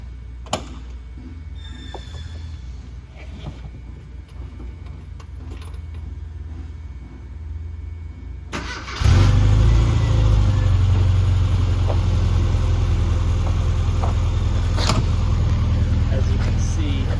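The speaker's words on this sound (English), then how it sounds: "we're gonna do a cold start on the Mini" A 1995 Mini fires up from cold about nine seconds in, after quiet background with faint handling noises, then settles into a steady, loud, close idle that runs to the end.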